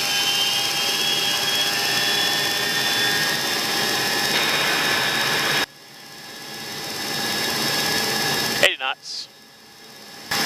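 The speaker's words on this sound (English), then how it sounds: "And set takeoff power." Boeing E-3 jet engines spooling at takeoff power, a loud roaring whine with steady tonal lines, cutting off abruptly partway through, then returning after a brief burst of radio-style noise.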